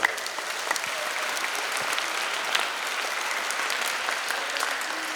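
A church congregation at Mass applauds a child who has just read aloud, the steady clapping holding at an even, moderate level for several seconds with no talk over it.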